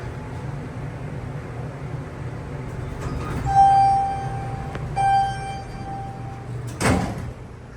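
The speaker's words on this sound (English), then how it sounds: "Door is aggressive." An MEI hydraulic elevator door at a university hall slides with a soft rumble, gives a tonal chime-like whine midway, then closes with a sharp knock near the end, heard at close range.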